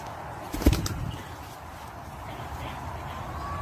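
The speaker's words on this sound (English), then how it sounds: "This pigeon was hurt, so they spent months nursing it back to full health." A pigeon, nursed back to health after an injury, is released into the wild. A short burst of close wing flapping comes early, then fades into quiet outdoor background.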